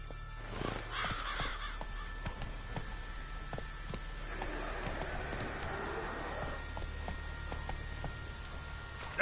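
Hoofbeats of the horse Roach in The Witcher 3, a steady clip-clop of a galloping horse under ambient forest sound, moderately quiet and continuous, with a brief swell of other noise midway.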